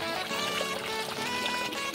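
Water pours over a child's head during a bath at home, a steady continuous splashing pour lasting the whole moment, fairly loud and close with no talk over it.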